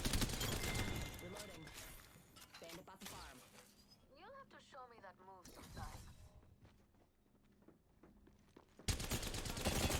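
Gunfire in Apex Legends, rapid bursts of automatic shots and cracks during a firefight, loud at the start and end with quieter stretches, while a voice talks over the game.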